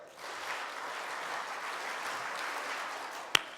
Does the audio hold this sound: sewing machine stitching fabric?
no